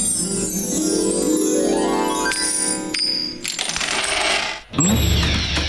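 Coins drop and jingle in a cartoon scene, with a run of metallic clinks that carries over a musical backing through most of the scene.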